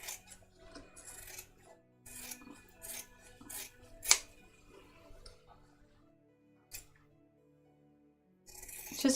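Scissors snip through fabric seam allowance while trimming a child's jacket, a few short quiet cuts and rustles spread across an otherwise still sewing table.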